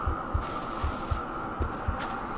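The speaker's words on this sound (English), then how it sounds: "I hear a heartbeat." Steady heartbeat thumps from the video game Bloodborne, low and regular in a double-beat rhythm about every half second, under a constant hum with no talking.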